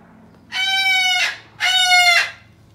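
Pet parrots kept indoors in a family home in the USA give two loud, drawn-out harmonic squawks, each lasting most of a second, close by with a short pause between them.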